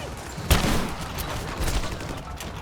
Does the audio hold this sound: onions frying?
no